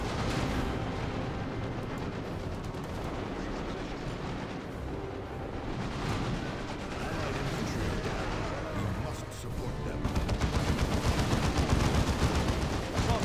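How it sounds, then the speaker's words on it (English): Automatic guns fire in the strategy video game Dawn of War 2: Chaos Rising, a dense, continuous roar of gunfire and explosions throughout, with a player's voice talking over the battle. "here are auto guns."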